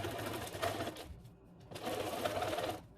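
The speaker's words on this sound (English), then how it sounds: "the zigzag top stitch. You're going to start on the bottom edge, you have your zigzag" A sewing machine runs a zigzag top stitch over elastic on a fabric face mask, two steady bursts of rapid mechanical stitching with a short pause between, close and fairly loud.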